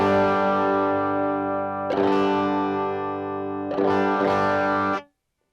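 Electric guitar played through a ToneLab LE modeling effects unit with a nasal, distorted tone, three strummed chords ringing out and sustaining loudly and close before cutting off abruptly.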